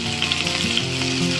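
Chili is added to garlic frying in oil for chilli chana, a loud, dense, continuous sizzle up close with light stirring.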